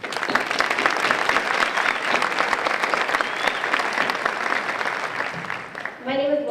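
A large audience at a 2015 foundation kickoff event breaks into sustained, dense applause and cheering, loud and steady for about six seconds before it fades and a voice begins speaking.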